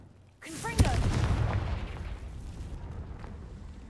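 A Confringo blasting spell in Hogwarts Legacy goes off with a sudden booming explosion and sharp crack, then a rumbling, crackling tail that slowly fades; a short voiced utterance sits near the start.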